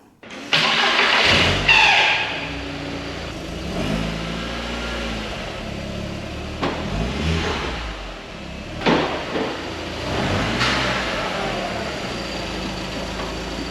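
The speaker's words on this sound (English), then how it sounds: "get the engine starting, stopping, the car moving on its own steam" A VW Mk2 Golf with a 20v turbo engine conversion cranks and fires up close by, then runs at a steady idle with a few sharp revs blipping out over the next several seconds.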